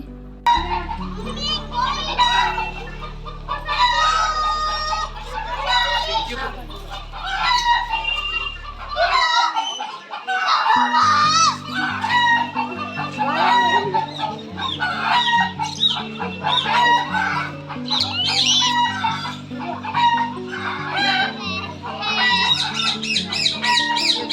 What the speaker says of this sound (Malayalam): ഒരു കോഴിയാണെങ്കിൽ ഭയങ്കര വിളിക്കലാണേ